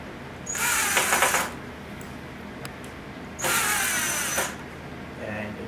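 A cordless drill drives screws into the base frame of a walnut TV unit during assembly, two short whirring bursts about a second long with a pause between, fairly close and otherwise quiet.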